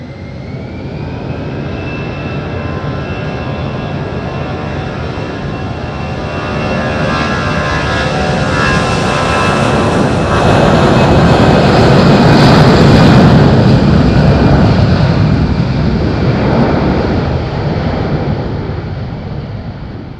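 A TAP airliner on the Terceira flight roars steadily at Madeira Airport, loud and close, its engine noise swelling toward a peak midway before easing slightly, with no talk over it.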